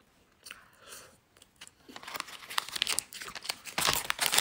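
Close, crunchy chewing of chocolate-flavoured mochi filled with cream and black sesame, soft at first and then turning into dense, crackly bites that grow louder toward the end.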